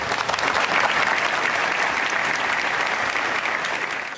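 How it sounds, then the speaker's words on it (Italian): Long, dense applause fills the Teatro Massimo as President Sergio Mattarella enters, a steady wash of many hands clapping from start to finish without a break. "accolto con un lungo applauso al suo ingresso in teatro"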